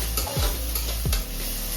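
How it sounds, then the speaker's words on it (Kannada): Onions frying over a medium flame until golden brown: a loud, close, continuous sizzle with two quick scraping strokes of a spatula across the pan. "ಈರುಳ್ಳಿ ಗೋಲ್ಡನ್ ಬ್ರೌನ್ ಬರೋ ತನಕ ಈರುಳ್ಳಿ ಫ್ರೈ ಆಗಬೇಕು."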